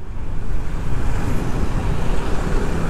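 Busy road traffic with many cars passing in Berawa, Canggu, Bali by day, a loud continuous roar of engines and tires from close by, steady with no pauses.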